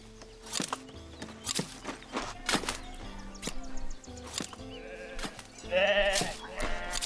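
Sheep bleat several times in the cute farming video game Foundation, set against soft, steady in-game music. The bleats are clear and close, with a louder run of bleating near the end and a few light clicks.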